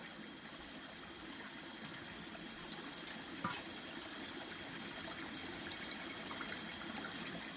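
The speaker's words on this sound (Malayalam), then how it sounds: "കുക്ക് ചെയ്യാനുള്ള വെള്ളം എടുക്കാൻ വന്നു" Water is collected for cooking at a camp in Idukki: a steady, even rush of flowing water fills the whole clip, fairly quiet, with no voices.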